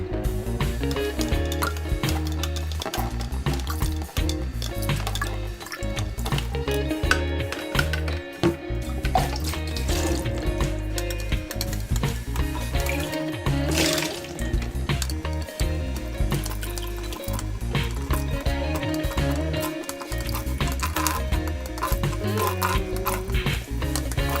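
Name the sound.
water pouring from a jug into a glass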